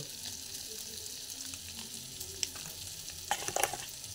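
Coriander and cumin powder frying in a pan, a steady close sizzle with brief scraping and clinking as a spoon stirs the spices near the end.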